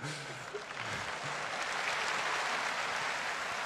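A crowd applauds at the Tour de France team presentation, a broad wash of clapping that swells and holds steady, with a voice talking faintly at the start.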